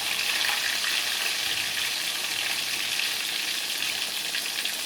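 Pollock fillets coated in almond flour fry in a hot pan, giving a steady, loud, dense sizzle that holds unbroken throughout, with no voices.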